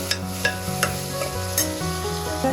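A tomato drops into mutton and cucumber curry, and the pan sizzles under a few sharp stirring clinks and scrapes. The frying runs close and steady, with no one speaking.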